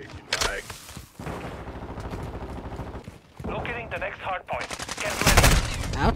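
Gunfire in a shooter video game: rapid automatic bursts and a few heavy shots crackle loudly in close succession, mixed with game sounds and a speaking voice.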